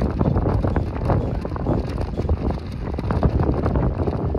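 Strong gusty side wind buffets the microphone of a bicycle riding through the countryside, a loud irregular rumbling roar with uneven blasts and no voices.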